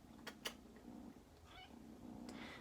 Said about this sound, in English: Because everyone needs a nursery kitty.